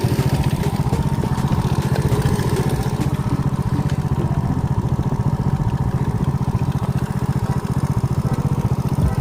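An Alfa moped engine running outdoors: a steady, buzzing single-cylinder putter with fast, even firing pulses, close and loud throughout with no speech.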